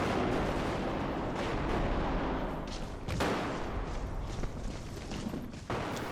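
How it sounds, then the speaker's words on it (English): Gunfire in the shooter game Bodycam sounds from behind a wall, muffled shots and bursts cracking out over several seconds amid a dense rumbling background. "So gunshot occlusion has completely been reworked, so that when somebody fires behind a wall,"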